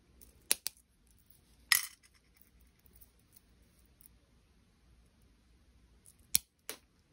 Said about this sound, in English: Now I'm gonna grab my nippers and snip them off at an angle.